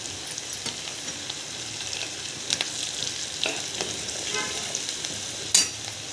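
Onion and tomato with turmeric and chili powder frying in a pan for a mung bean amti, a steady soft sizzle with occasional clinks of stirring, no talk.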